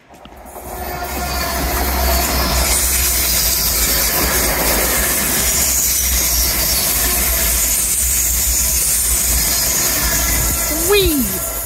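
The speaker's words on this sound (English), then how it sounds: "First train of the day." A train rumbles past close by on a rural walk, a steady loud roar of wheels and carriages with continuous hiss, ending with a rising whistle-like tone and a shout; no wind shield on the recording.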